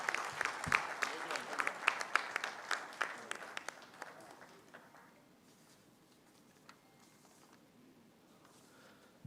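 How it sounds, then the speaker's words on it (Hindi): Audience applause at an awards ceremony in Pakistan: sharp, close claps ring out for about four seconds, then die away into a quiet room with faint scattered sounds. "बहुत सारी तालियां"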